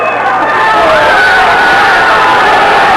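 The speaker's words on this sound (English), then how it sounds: "The audience is cheering him." A boxing crowd cheers loudly in a dense, continuous roar of many voices at ringside, filling the whole stretch at high level.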